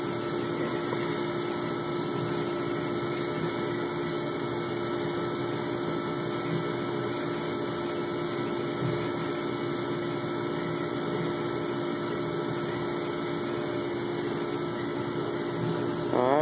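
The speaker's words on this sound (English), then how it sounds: "Flywheel turns at 500 RPM, just like whenever we balance a crankshaft" Flywheel spinning at 500 RPM on a crankshaft balancing machine, a steady, close mechanical whir with an even hum that continues unchanged throughout, with no talking.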